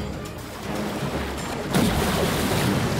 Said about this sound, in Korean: 거대한 파도!